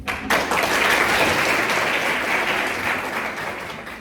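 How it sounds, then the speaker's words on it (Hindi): College students in an auditorium audience burst into loud, sustained clapping that rises quickly, holds steady for a few seconds, then begins to taper off, with no talking over it. "तब फिर इस बात पे ताली बजाओ।"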